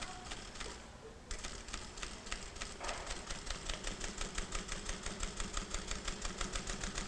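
A sewing machine stitches binding onto fabric in a steady, fast mechanical chatter, running close and continuously with an even rhythm of needle strokes and a low motor hum.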